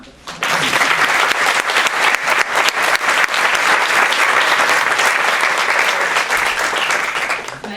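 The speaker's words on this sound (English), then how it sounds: "let's give them a round of applause" Sustained, loud audience applause at a university diversity award celebration, rising sharply and holding as a dense wash of clapping before easing off near the end.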